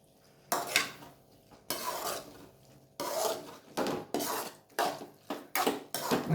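Ghee-fried paneer tumbled into a plantain curry and stirred in a pan: a series of close, scraping spoon strokes against metal in irregular bursts, with quiet gaps between, no voices.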